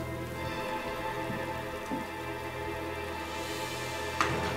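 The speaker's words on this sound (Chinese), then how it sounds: "下雨了。" Steady rain falls outside a room in 1930s-era Shanghai, a continuous even hiss with a couple of faint knocks and a brief louder rustle near the end.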